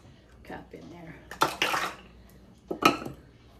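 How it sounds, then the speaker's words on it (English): A spoon clinks and scrapes against a bowl while cornbread batter with sugar is stirred, in a few short bursts of clatter between quiet moments, close by and with a voice talking alongside. "And stir it up"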